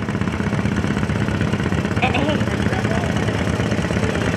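An antique John Deere 40 tractor engine runs steadily at a parade, a continuous loud mechanical drone with a brief higher sound partway through, while a voice speaks over it.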